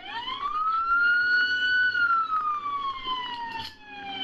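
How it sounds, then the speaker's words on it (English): A police car siren wails in one long rising and falling sweep, loud and steady over faint road noise, with no talk over it. "Bro, turn the siren off, please."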